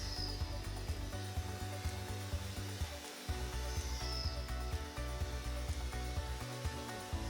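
Power drill boring holes into a log for growing shiitake mushrooms, a steady close whirring drone with brief dips as the bit bites and pulls back, running continuously without talk.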